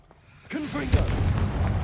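A Confringo blasting spell explodes in the Hogwarts Legacy video game: a shouted voice sets off a loud, booming burst that rolls into a sustained rumble of fiery crackle lasting over a second.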